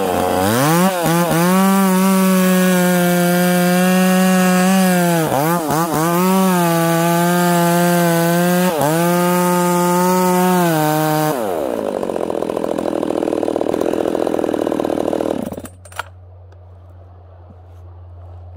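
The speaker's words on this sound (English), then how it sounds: "We're going to finish her off with the Husqvarna 44." A Husqvarna 44 chainsaw cuts through big crotch wood with a loud, close, sustained buzz that dips briefly a few times under load. It then drops to a rougher idle and cuts off near the end.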